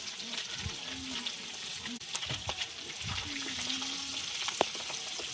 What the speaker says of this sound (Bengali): বাকিগুলো ভেজে নিচ্ছ? এগুলো ভেজে নেবো।